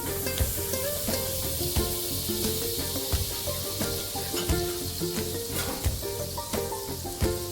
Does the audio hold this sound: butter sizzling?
yes